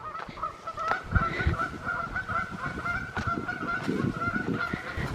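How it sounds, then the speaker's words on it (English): A Canada goose honks repeatedly from a moderate distance outdoors, loud nasal calls recurring in a steady series over a low background rumble. "Boy, the Canadian goose is loud today."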